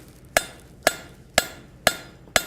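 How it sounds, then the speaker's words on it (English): A rivet is hammered cold to upset it: five sharp, ringing metallic blows land at an even, unhurried pace, each close and loud with a short decay, and no talking. "start upsetting the rivet while cold"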